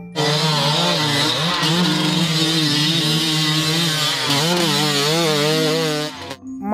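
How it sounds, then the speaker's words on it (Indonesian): A toy motocross bike plays its engine sound, a loud buzzing two-stroke whine that revs up and down in wavering pitch for several seconds, then cuts off abruptly. "Motor cross."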